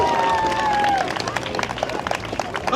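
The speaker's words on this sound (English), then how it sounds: "A huge round of applause as he goes back to his adults and parents as well." Crowd applause in a Viking festival arena, brief scattered clapping and light cheering from spectators, with a voice talking over it.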